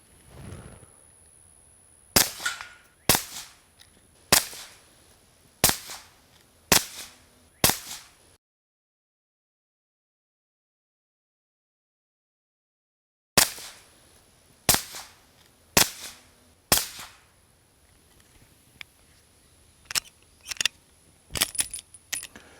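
A suppressed Smith & Wesson M&P 2.0 pistol fires 158 grain Super Vel rounds outdoors, two strings of sharp, evenly spaced cracks, about seven shots, then a silent gap, then more shots.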